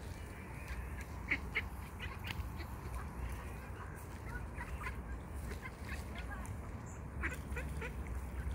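Ducks quack intermittently at a distance on a lake over steady outdoor background noise, with faint voices talking in the background.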